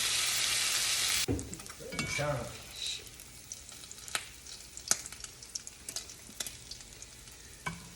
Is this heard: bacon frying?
yes